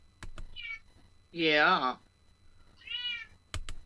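A needy pet cat meows close by, with one loud drawn-out meow flanked by two shorter, fainter calls, and a person briefly speaks between them.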